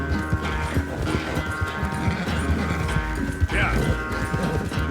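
Hooves clatter rapidly as a horse gallops in the Red Dead Redemption 2 video game, a dense rhythmic pounding held across the stretch with game ambience around it and a voice partly over it.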